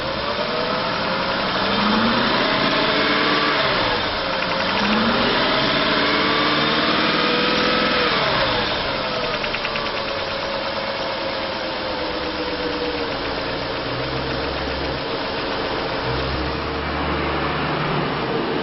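A 2001 GMC Sierra 2500 HD pickup with an 8.1 liter engine and automatic transmission idles steadily and close by, a continuous low rumble with slight drifts in pitch and no talking.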